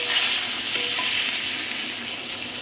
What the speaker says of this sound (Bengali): এবার নুন আর হলুদ মাখানো কেটে রাখা আলুগুলো দিয়ে দেব।